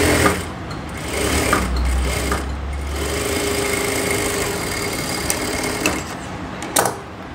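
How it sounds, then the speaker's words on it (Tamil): A sewing machine stitches the folded armhole edge of a blouse, its rapid mechanical whirring running steadily at close range with brief pauses and faint handling sounds, and no talking. "ஜஸ்ட் அப்படியே ஃபோல்ட் பண்ணி ஸ்டிச் பண்ணுங்கள்."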